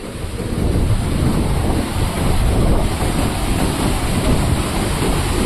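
Water roars steadily over the spillway of Haranbari dam after a cloudburst downpour, a loud continuous broadband rush with wind buffeting the microphone and no voices.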